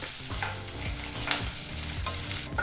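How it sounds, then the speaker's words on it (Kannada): Green chilies and peanuts roast in a pan while a spoon stirs them, a steady sizzle with repeated scraping strokes close by and no voices. "ಮೊದಲಿಗೆ 4 ನಿಮಿಷ ಚೆನ್ನಾಗಿ ಇದನ್ನೆಲ್ಲ ಈ ರೀತಿ ಎಡೆಬಿಡದೆ ಮಿಕ್ಸ್ ಮಾಡ್ತಾನೆ ಹುರಿಬೇಕು"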